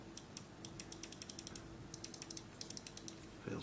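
Small plastic parts of a PS4 controller click into place during a repair. Quick, light ticks come in irregular runs, close and quiet, with a soft thump near the end.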